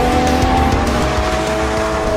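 A Porsche Cayman mid-engine sports car driving, with a loud, steady engine note and tyre noise heard close up, with no talk over it.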